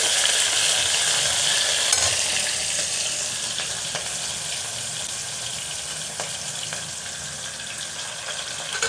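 Chopped onions sizzle in a pan with cardamom while a spoon stirs them, a continuous close frying hiss for hotel-style kushka rice with a few scraping strokes.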